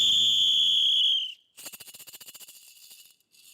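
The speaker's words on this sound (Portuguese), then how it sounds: "Toquei apito, agora vou reunir." A shrill whistle blown in one long steady blast on a stage, followed by a short pause and a rapid run of fluttering, trilled pulses, loud and close with no talking.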